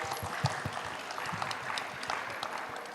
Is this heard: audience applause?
yes